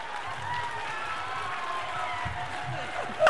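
Audience applause at the Acharyakulam school annual function in Kumarikata, Assam: a steady wash of clapping from a crowd fills the whole stretch, with a louder burst of clapping right at the end.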